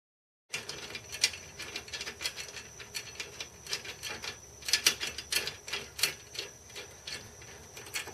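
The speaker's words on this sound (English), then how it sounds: "Line it up right there, and then just screw this in." A bolt is screwed by hand into a bolt-together drift trike frame, with a close run of rapid metallic clicks and ratcheting ticks, irregular and busy, alone without talk.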